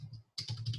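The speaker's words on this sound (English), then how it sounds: "I was just walking on the keyboard." Soft, quick clatter of keys as a cat walks across a computer keyboard, a short burst after a quiet gap, faint and close.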